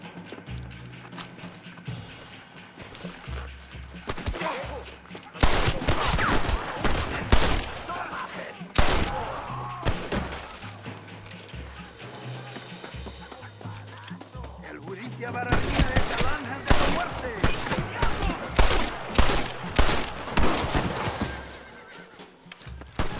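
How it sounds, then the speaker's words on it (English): Bursts of gunfire crack out in Red Dead Redemption amid galloping horses and whinnies, with loud volleys coming in clusters and lulls between. "Stop shooting at me!"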